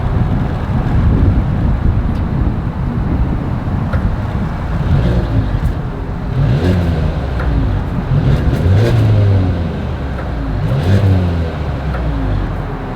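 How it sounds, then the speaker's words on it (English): The dual exhaust of a 2022 Mercedes-Benz GLA 250 rumbles loud and close, a continuous engine note that swells in a few rev rises, with wind buffeting and no talking. "As always, here is that exhaust clip."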